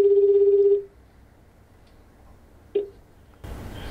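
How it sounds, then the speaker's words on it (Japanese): A telephone call being placed: a steady dial or ring tone sounds for under a second, then near silence, a brief tone, and a burst of line noise as the call connects. "ということで緊急藪内先生に直撃生電話。"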